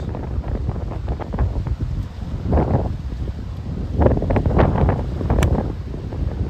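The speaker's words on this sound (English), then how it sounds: "a lot of wind here" Strong wind of around 30 mph buffets the microphone on a golf course in Boulder City, a loud, gusting rumble that swells and fades continuously with no talk.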